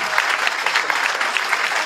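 Audience applause at a Miss France candidates' press event, a steady dense clapping from a crowd that holds evenly for the whole stretch with no voices on top.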